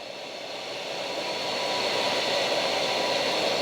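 Hot air rework station blowing heated air onto heat shrink tubing up close, a steady broadband hiss that swells slightly in strength and then holds evenly, with no talking.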